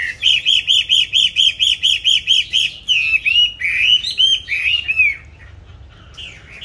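A hwamei songbird sings loud and close, opening with a rapid run of about a dozen evenly repeated whistled notes, then sliding into varied warbling phrases before fading to a quieter background.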